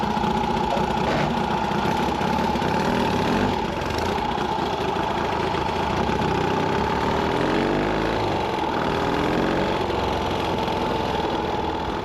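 A Triumph Desert Sled motorcycle engine, recently repaired after breaking pushrods, runs steadily and loudly throughout, a continuous close mechanical drone with a slight shift in pitch partway through.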